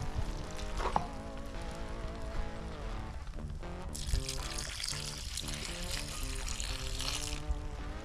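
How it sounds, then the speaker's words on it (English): Water pours steadily into a pot of venison chili, a continuous trickling splash over background music, growing fuller partway through. "I'm going to add some water."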